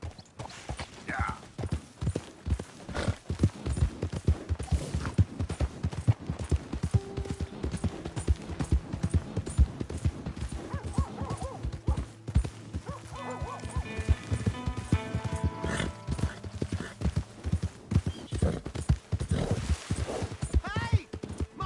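Horse hooves clip-clop steadily and close in Red Dead Redemption 2, a continuous rhythmic trot with an occasional whinny, while voices talk over it.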